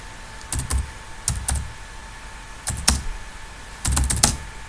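Computer keyboard typing while entering a command in STATA statistical software, heard as four short bursts of rapid keystrokes separated by pauses, close and moderately loud over a quiet background.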